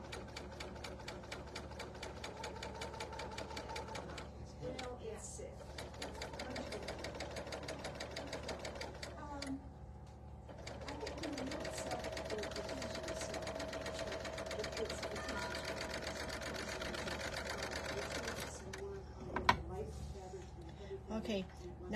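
Sewing machine running at a steady pace while stitching quilt fabric pieces placed wrong sides together, a continuous close mechanical whir with brief pauses, under a person's talk.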